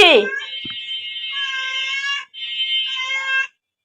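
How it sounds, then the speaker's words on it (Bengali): A cat gives two long, loud, drawn-out meows close by, the first cut short by a brief pause before the second begins. "এই যে এটা আমাদের পালা বিড়াল।"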